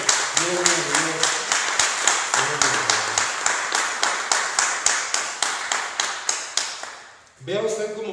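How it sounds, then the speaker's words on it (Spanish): Church congregation clapping in a steady rhythmic beat, dense and close, continuing for several seconds with a voice singing or speaking over the start, then a brief pause before voices return. "Den un aplauso al Señor."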